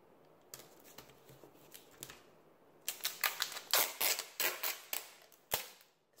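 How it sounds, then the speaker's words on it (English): Tape being pulled off a roll in quick, crackly bursts: faint scattered snaps at first, then a louder run of sharp rasping rips close by, with no talking. "This makes a lot of irritating sounds ripping this tape"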